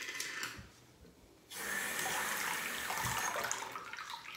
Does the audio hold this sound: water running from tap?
yes